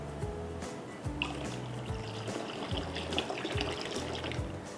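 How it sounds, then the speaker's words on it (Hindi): Vinegar water is poured into hot milk to curdle it, making a continuous splashing, trickling liquid sound that runs steadily throughout, close by and moderately loud. "हम एक साथ पानी डाल देंगे"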